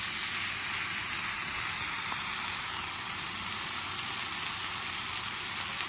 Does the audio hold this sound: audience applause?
no